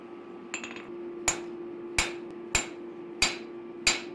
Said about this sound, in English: First, asymmetrically with one or two hits of the hammer